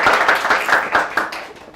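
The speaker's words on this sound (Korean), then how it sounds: "감사의 박수 한번 부탁드리겠습니다" Short burst of audience applause at a talk, a handful of distinct close claps in a quick, uneven rhythm, fading off within a couple of seconds.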